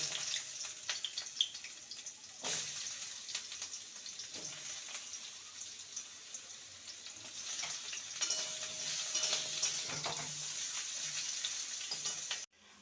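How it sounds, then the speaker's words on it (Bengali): Long-cut potatoes sizzle and crackle steadily in hot mustard oil for several seconds, with occasional clatters of a utensil stirring the pan. "আলুটা ভাজা হতে থাক"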